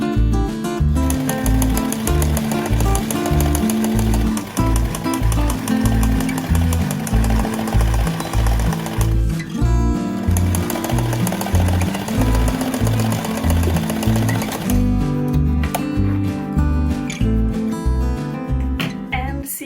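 A sewing machine stitches bias binding strips into the shoulder seams of a fabric top, running in a steady, fast, loud rhythmic chatter with brief pauses and changes of pace.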